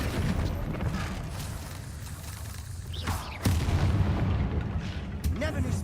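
A spell explosion from the Hogwarts Legacy video game, Bombarda, lands as a sharp boom partway through, over a steady rumbling game backdrop with a second burst near the end.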